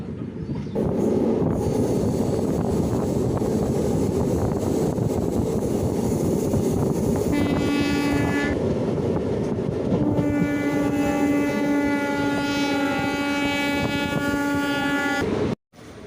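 A train on the Shoranur–Nilambur line rumbles along steadily as it arrives at Angadipuram railway station, then its horn blasts twice, the second blast long and sustained, before the sound cuts off abruptly.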